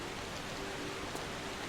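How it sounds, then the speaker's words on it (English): Steady, soft hiss of falling rain from the jungle level of Tomb Raider III, an even wash of ambient noise with no speech over it. "I love the rain effects."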